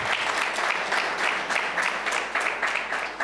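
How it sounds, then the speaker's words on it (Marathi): Audience applause after a tabla performance at a devotional music festival, steady dense clapping from a crowd filling the whole stretch with slight swells, close and fairly loud. "जोरदार टाळ्या होऊ द्या."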